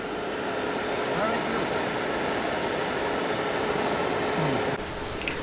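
A 2000 W laser weld cleaning machine runs with a steady, loud broadband hiss and hum that holds evenly throughout, shifting slightly near the end.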